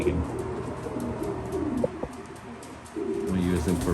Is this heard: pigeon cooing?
yes